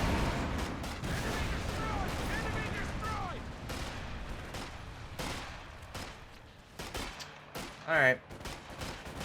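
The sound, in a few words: anti-tank team firing in video game Company of Heroes 2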